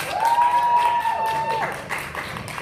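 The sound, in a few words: audience applause at gospel event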